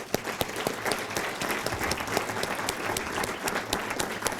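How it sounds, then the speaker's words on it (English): A room full of people claps in sustained, steady applause, dense and even throughout. "But one more round of applause for Dr. Booth, please."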